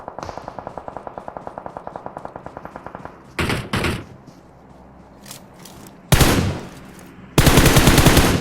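Gunfire in PUBG on the Livik map: a rapid automatic burst in the first three seconds, then separate loud volleys and blasts near the end.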